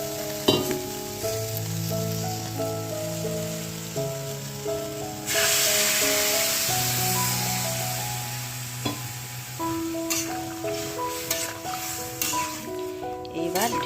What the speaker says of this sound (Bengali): ভাজা হয়ে গেছে, এবার একটু এর মধ্যে জল দিয়ে দেবো